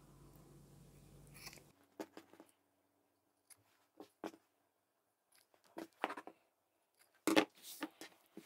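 Scissors trim the fabric corners of a sewn cutlery roll, making a few separate sharp snips with quiet pauses between them, close and distinct after a brief rustle of handling at the start.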